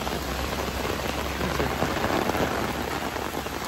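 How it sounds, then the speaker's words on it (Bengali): Heavy rainstorm pouring down at Jhakri Falls Park in Gangtok, a dense, steady roar of rain beating on surfaces close by, with no break and no voices. "প্রচুর জোরে ঝড় বৃষ্টি শুরু হয়ে গেছে।"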